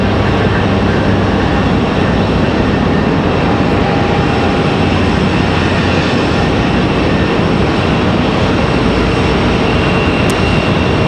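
Swoop airliner taxiing out at Raleigh Durham airport, a constant loud jet engine rumble and hiss holding steady throughout, with no voices.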